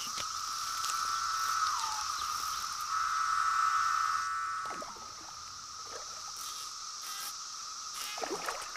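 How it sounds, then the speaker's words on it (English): Cicadas of a 17-year periodical brood chorus in a forest, a steady loud droning whine holding without pause, joined by scattered chirps and brief rustles. "After an absence of 17 years, the forest is now overrun by cicadas."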